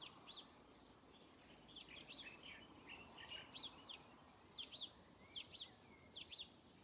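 Several birds sing and chirp in the evening, with short bright phrases repeating in bursts and growing more frequent toward the end over a soft, steady background hiss; no one speaks.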